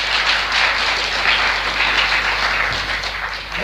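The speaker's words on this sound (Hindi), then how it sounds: "तालियां मारो।" A satsang congregation claps on cue during a spiritual discourse, loud continuous applause over a low steady hum, no voices over it.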